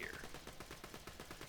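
A Vladof pistol in the Borderlands 2 video game fires a quick, steady rattle of shots, faint and evenly spaced, like a rapid automatic stream.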